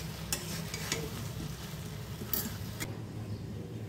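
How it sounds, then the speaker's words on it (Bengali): Mixed vegetables frying in mustard paste for a Bengali sukto, a continuous close sizzle broken by a few sharp scraping strokes of a spoon against the pan, with no voices. "সব সবজিগুলোই দিয়ে সর্ষের পেস্টের সাথে 1 মিনিটের মতো ভেজে নেব"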